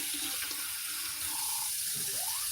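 Tap running with hot water flowing steadily into a sink, a continuous close hiss of water with no talk over it.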